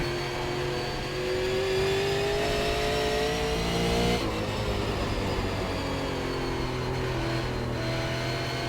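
Super Late Model race car engine in the iRacing sim at Five Flags, a steady, loud drone that holds and rises and falls slightly in pitch as it works through a corner, with no talking over it.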